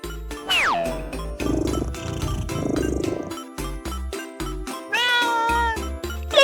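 A kitten meows repeatedly from a cozy bed, clear close-up mews with rising and falling pitch, separated by soft rustling and light tinkling sounds.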